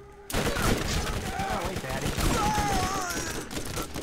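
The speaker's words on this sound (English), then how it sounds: "Oh, we're getting shot." Video game gunfire from Borderlands 3, rapid bursts of shots crackling continuously alongside game music and effects, with voices talking over it throughout.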